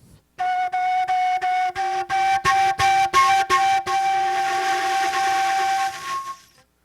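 A nay flute sounds a sustained split multiphonic note, breathy and close, pulsing in short rhythmic tongued bursts before settling into one long held tone that fades out.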